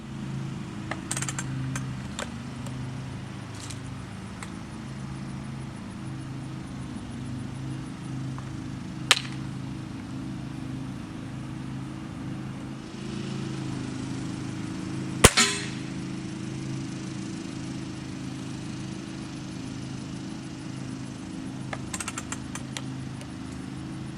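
RWS 52 side-lever spring air rifle firing heavy pellets downrange, two sharp isolated shots several seconds apart over a steady low hum, with faint clicks between.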